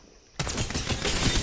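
Sudden burst of automatic gunfire in the battle royale shooter Apex Legends, starting after a quiet moment and continuing as dense, loud, rapid shots with no talking.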